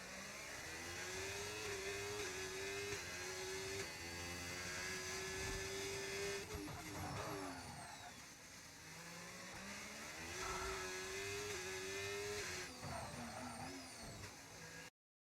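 Several racing cars roar through a sim racing game round at China, engines revving up and down in continuous loud overlapping whines with gear-shift dips, filling the clip without any voices.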